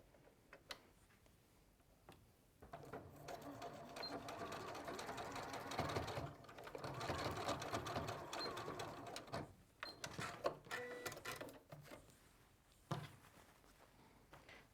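A sewing machine stitches a backpack in short runs, a fast mechanical clatter that starts and stops in bursts, fairly close but soft, with quiet gaps and light handling noises between runs.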